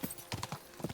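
Hooves of a horse clip-clopping in the medieval game Kingdom Come: Deliverance II, a quick uneven series of soft thuds and knocks at close range, fairly quiet with no voice over them.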